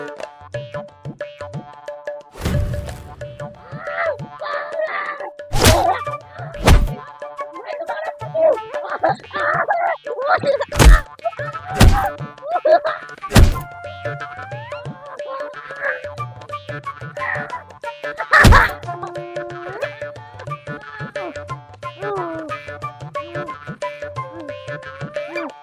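Several sharp, sudden blows land at irregular intervals while someone is struck in a Hindi film scene. Voices and other sounds fill the gaps between the hits.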